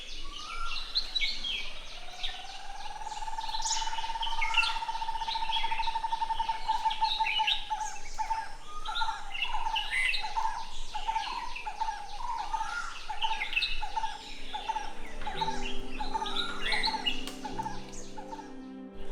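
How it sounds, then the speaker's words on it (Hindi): Several birds call and chirp around an ancient temple tree at Purnagad Fort, with one bird repeating a clear, steady note among busier overlapping chatter in open, quiet surroundings. "अभी पक्षियों की आवाज़ गूंज रही है"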